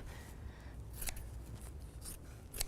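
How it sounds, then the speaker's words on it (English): Scissors snip through white paper while a rough gingerbread-house shape is cut out, giving a few quiet, brief crisp cuts spaced over low room noise. "Cut a rough shape"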